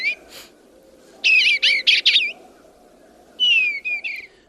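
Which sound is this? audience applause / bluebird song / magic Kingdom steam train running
bluebird song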